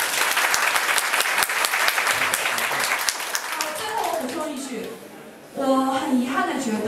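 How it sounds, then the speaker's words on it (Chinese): Audience applause at a talk or lecture, a dense sustained clapping that fills the room, thinning out toward the end as a voice starts speaking over it. "大家都可以掌声一下"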